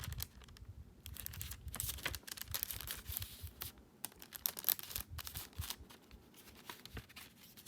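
A Japanese CD box set's packaging is eased back into place, producing close, busy plastic clicks, cardboard rustles and crinkling handling noises in irregular bursts.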